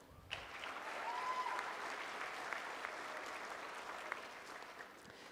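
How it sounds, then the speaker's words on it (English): An online public school's commencement audience applauds graduating students after their names are read, with a steady but faint round of clapping that holds through the whole stretch. "Let's give these students a round of applause for all their hard work and dedication."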